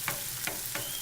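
Smoked salmon frying with garlic and onions in a pan, giving a steady close sizzle broken by three quick stirring scrapes in about a second, with no talk.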